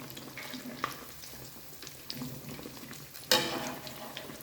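A stuffed chicken sandwich parcel fries on its second side in a pan, giving a soft, steady sizzle, then one brief louder clatter as it is moved.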